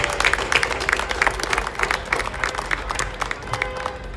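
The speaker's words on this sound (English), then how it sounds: "So please give the Palestinian American Community Center a round of applause." Crowd applause for the Palestinian American Community Center at a Palestinian flag raising ceremony in Paterson, New Jersey, steady dense clapping from a nearby outdoor audience, loud and sustained throughout with a few faint voices mixed in.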